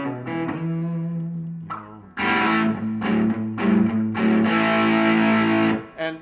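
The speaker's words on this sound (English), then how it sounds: "And he calls it the All-American. The All-American distortion." Electric guitar played through an All-American distortion pedal set to low gain for an old rock and roll blues tone: a few sustained notes, then louder distorted chords and riffs that ring out before cutting off.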